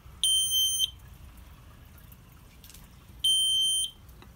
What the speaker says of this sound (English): it realizes, oh, I'm out of power, and it's going to start chirping